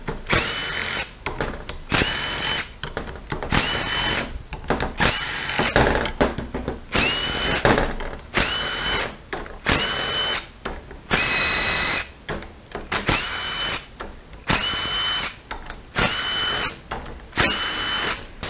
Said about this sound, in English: my impact does weird noises every now and then